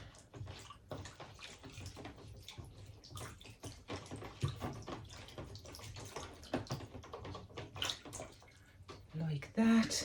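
Water splashes and trickles as plant leaves, cut free of their roots, are rinsed during repotting: irregular soft sloshing and dripping bursts close by, fairly quiet, with a person talking over it.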